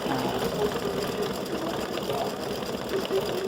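An embroidery machine stitches a clover outline for St. Patrick's Day hat earrings, a close, steady, fast mechanical whirring hum that runs without pause throughout.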